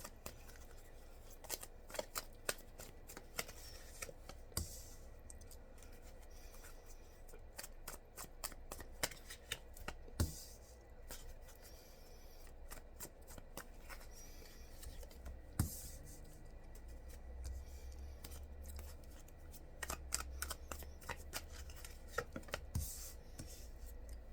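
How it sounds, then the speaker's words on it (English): Tarot cards being shuffled and laid down on a reading table, soft papery riffles and scattered light taps and flicks continuing steadily and close up, with no talking. "Put the cards down and see if we get the story."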